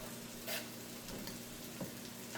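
Grilled corn sizzling as it is added to a pan, a soft steady hiss with a few light clinks and stirring scrapes, quiet and close.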